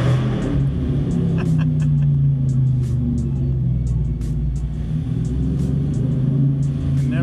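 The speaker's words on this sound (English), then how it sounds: "Try to get as much exhaust noise as we can." A 2019 Dodge Challenger with a HEMI V8 in sport mode gives off a steady, loud, deep exhaust rumble with rising revs, close and continuous throughout, with no talking over it.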